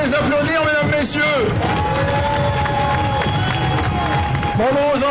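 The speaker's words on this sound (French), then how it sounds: "on n'hésite pas à les applaudir, mesdames, messieurs." Crowd at an outdoor carnival in Vitré cheering and clapping for children and teens amid loud festive hubbub, with someone speaking over a PA and harmonic music-like tones running throughout.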